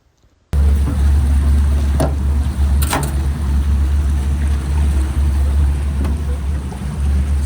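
A boat's engine drones steadily and loudly over rushing water as it heads out to sea beyond the Arctic Circle, with a few louder knocks and splashes along the way.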